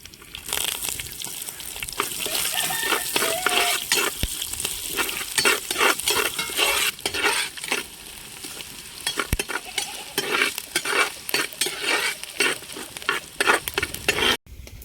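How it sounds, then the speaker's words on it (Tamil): Close, steady sizzling of chopped shallots frying in a pan with fenugreek, broken by repeated scraping and stirring sounds, with no talking. "நறுக்கி வச்ச சின்ன வெங்காயம் போட்டுக்கலாம்."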